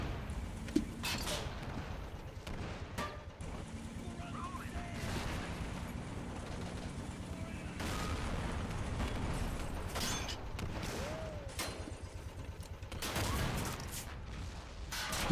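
Gunfire crackles through a Men of War battle, with dense overlapping bursts and booms forming a continuous, rumbling din across the whole stretch.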